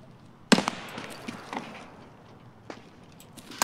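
A grenade going off in the shooter game Escape from Tarkov, one sharp blast followed by a few fainter cracks and thumps, with no voices over it.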